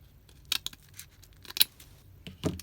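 Scissors snip through candle wrap material in a few quiet, sharp cuts, close and crisp against a near-silent room.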